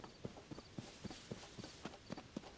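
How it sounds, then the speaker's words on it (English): Horse hooves clip-clop at a steady walking pace in Zelda: Tears of the Kingdom, an even series of soft close thuds in the open Hyrule landscape, with no talking over them. "There's a horse."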